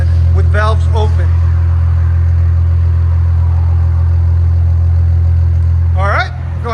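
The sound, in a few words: Infiniti Q60 Red Sport twin-turbo V6 exhaust idling, valves open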